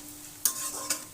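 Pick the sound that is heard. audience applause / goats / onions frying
onions frying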